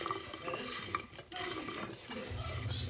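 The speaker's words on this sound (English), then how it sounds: "And then you just stir that up." A seasoned Creole-style roast beef mixture stirred in a bowl or pot, giving wet scraping and clinking of utensil against the dish, a continuous close and moderately loud sound with a brief lull midway.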